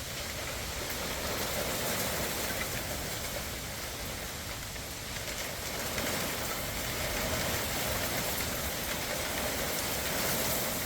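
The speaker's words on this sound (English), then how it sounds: "you cannot tell how hard it's really raining" Heavy rain pounding steadily on a car roof, a dense, loud, unbroken hiss and patter lasting throughout with no talking.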